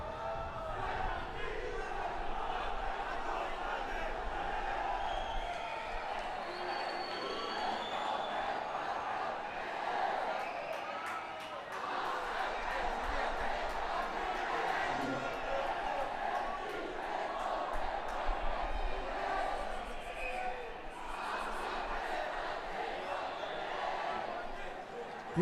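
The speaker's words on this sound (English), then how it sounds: "There you hear the crowd enchanting their college names, providing support to their brothers who are playing in the first 11 teams." School supporters chant college names in the stands at the Trinity versus St. Anthony's Battle of the Blues cricket match at Pallekele, a steady, dense crowd roar with rhythmic swells and shouts that continues throughout.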